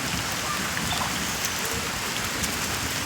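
Steady heavy downpour beside a house where floodwater has risen, a broad continuous hiss of rain striking water and surfaces nearby, uniform and unbroken with no talking.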